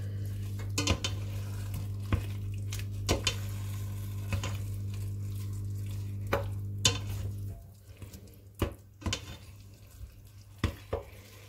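A spoon scrapes and clinks against a cooking pot in irregular strokes as flour is stirred into veal for a blanquette, over a faint sizzle and a steady low hum that cuts out partway through.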